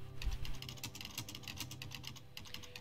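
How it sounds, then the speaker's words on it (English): Steady, rapid in-game keyboard typing in Stories Untold, crisp key clicks, continuous and close, over a low background hum. "It also has in-game typing noises, which is amazing."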